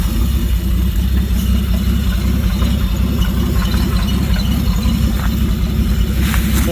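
A 1946 Plymouth flathead six idles steadily and close by after sitting for six years, running on a makeshift gravity-fed gas tank, its low even rumble continuous throughout with no voices.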